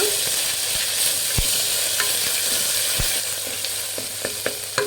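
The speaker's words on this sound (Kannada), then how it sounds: "1 ಟೇಬಲ್ ಸ್ಪೂನ್ ಶುಂಠಿ ಬೆಳ್ಳುಳ್ಳಿ ಪೇಸ್ಟ್ ಹಾಕ್ಕೊಳ್ಳಿ. ಇದು ಫ್ರೈ ಮಾಡಿ." Ginger garlic paste fries in hot oil over a medium flame for a rustic-style mutton boti gojju, giving a loud, steady sizzle close up, punctuated by several sharp spoon taps and scrapes against the pan.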